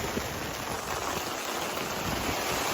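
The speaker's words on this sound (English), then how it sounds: "I've never seen rain like that in my life" Torrential rain pours down in a Lake District thunderstorm, a dense, steady roaring hiss of heavy drops beating on surfaces close by, unbroken and loud throughout with no voices.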